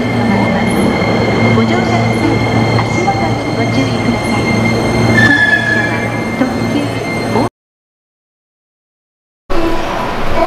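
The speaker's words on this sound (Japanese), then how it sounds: "さあ電車を待ちます。" Hankyu train running at a station platform, a steady loud rumble with faint wheel squeal, continuous for several seconds before a short gap of silence and a brief return.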